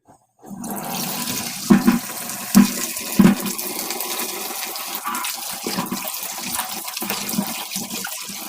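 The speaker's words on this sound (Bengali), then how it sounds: "প্রথমেই আমি বেগুনগুলিকে ধুয়ে নিয়েছি" Water runs steadily from a tap while eggplants are washed in a kitchen, a continuous close splashing flow broken by a few sharp knocks and thuds, with no talking.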